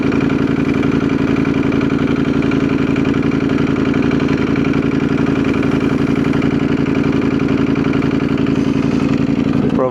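A 2019 Ducati Panigale V4 motorcycle engine idles close by with a steady, loud, even rumble for the whole stretch, with no revving or launch.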